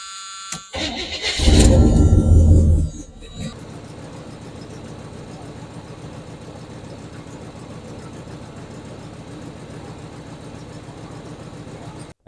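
A GM Squarebody truck engine cranks and catches with a loud surge, then drops into a steady, even idle that continues close by, with no talking.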